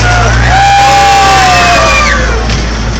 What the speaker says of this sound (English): You go through a train tunnel, you're supposed to yell, scream, whistle, or holler.